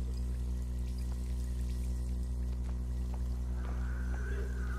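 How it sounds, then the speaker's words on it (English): A tap turned on in Bioshock Infinite pours and runs in a steady, faint stream over a low constant game hum, with no talking. "Turn their water on so they got a large water bill."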